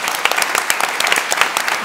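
Applause at a Nobel Peace Center talk, a loud, close wash of many hands clapping with sharp individual claps poking through the steady patter across the whole stretch.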